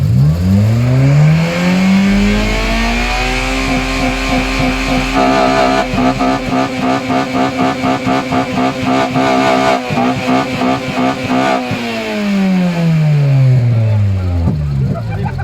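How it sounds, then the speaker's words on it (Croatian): A Honda car engine at a car show, revved in a long rising and falling sweep, held high with a pulsing, rattling intake roar for several seconds, then eased back down, loud and close. "pošto je ekipa odlučila da će Honda prva, molim te da kreneš sa svojim turiranjem"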